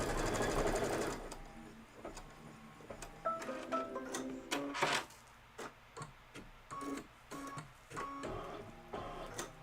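Kimberbell Cup of Cheer project being stitched on a sewing machine: a clear mechanical whirring that runs in bursts and pauses, with rapid ticking stitch rhythm, close and moderately loud, no talking.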